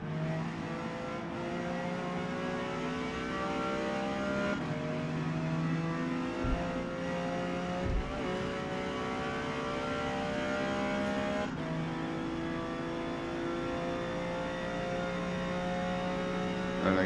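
A Ferrari Dino engine racing in D class at Indianapolis in the Forza Motorsport video game: a sustained, moderately loud droning engine note with rising and falling pitch, broken by brief dips at gear changes, with no talk.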